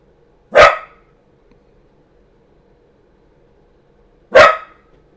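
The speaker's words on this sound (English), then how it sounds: "Must have been my dog." A dog indoors gives two sharp, loud single barks about four seconds apart, with near silence in between.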